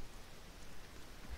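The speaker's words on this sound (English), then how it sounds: "It started raining, kind of overcast now." Steady rain falls in the ARMA 3 military shooter, a soft even hiss of drops on surfaces that holds at a constant low level throughout with no voices.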